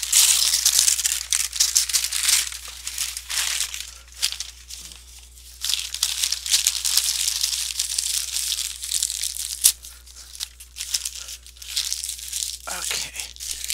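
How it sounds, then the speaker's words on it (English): Paper is torn and twisted by hand to shape a papier-mâché pumpkin stem, giving continuous close crinkling, crumpling and ripping with short pauses and a few sharper tears. "Tear off some more."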